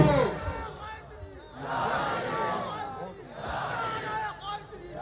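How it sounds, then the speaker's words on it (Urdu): A large crowd at an Urs gathering chants slogans together in loud, rhythmic waves of massed voices, with swelling and falling call-and-response bursts and voices leading the chant. "پورا مجمع نعرے میں شامل ہو"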